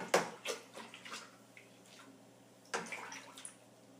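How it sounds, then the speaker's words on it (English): Priming solution splashing and sloshing into a beer bottling bucket, with a louder pour at the start and another surge later, close and fairly quiet. "Pour the priming solution into the bottling bucket and stir it in."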